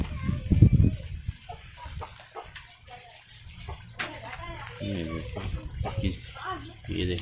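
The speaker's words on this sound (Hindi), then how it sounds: "सील मुर्गा है, ये भी बहुत प्यारा जावा है, बहुत अच्छी नस्ल का मुर्गा है ये" Aseel rooster clucking outdoors in rainy, cold weather, a few short uneven clucks and calls, with someone talking over and between them.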